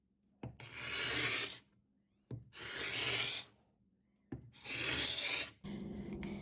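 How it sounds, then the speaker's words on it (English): A scraper drags across painted wood on an old dresser, stripping paint off in three long, rasping strokes with short pauses between them, close but fairly quiet. "I'm having a lot of fun scraping the paint off."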